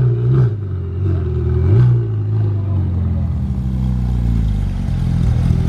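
A Porsche GT3 RS engine blips and revs twice near the start, then settles into a steady mid-pitched idle, loud and close.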